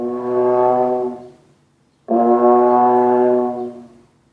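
A trombone imitates a cow's moo with two long, loud, lowing tones separated by a short pause, each swelling and then fading, with no talking.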